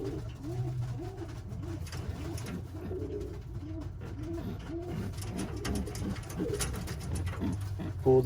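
Birmingham Roller pigeons coo steadily in a loft, soft repeated rolling coos layered over a low background hum, with faint rustling.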